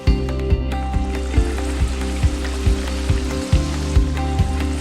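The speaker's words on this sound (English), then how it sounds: "add in 3 prawns at a time and fry for about 2 minutes" Prawns deep frying in hot groundnut oil at about 185 degrees give a loud, steady sizzle and crackle with dense bubbling pops throughout, close and continuous.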